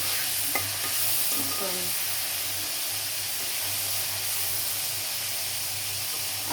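Boiled noodles stir-fry in oil with a steady loud sizzle, and a spatula scrapes and stirs now and then. A voice speaks briefly.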